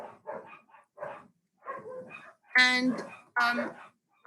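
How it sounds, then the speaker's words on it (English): Dogs bark in short yips and let out higher, drawn-out whimpers in broken bursts, close by, alongside a speaking voice. "I apologize for my dogs"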